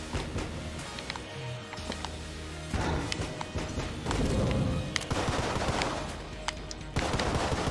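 Rapid gunfire from an unfamiliar weapon in the twin-stick shooter Exit the Gungeon, a dense stream of shots with bursts of impacts and crashes, fairly loud and steady with no talk over it.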